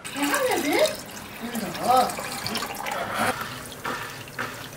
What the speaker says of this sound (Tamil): அருவி மாதிரி கொட்டுது பாரு